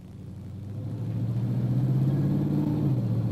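A Ford car with an AODE automatic transmission, overdrive switched off, accelerates under light throttle. A steady low engine drone rises gradually in pitch and loudness, heard alone without talk.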